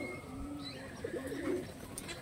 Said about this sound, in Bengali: কবুতর খোপে আসলাম। এই যে এরা সকালে আনন্দ করতেছে সবাই।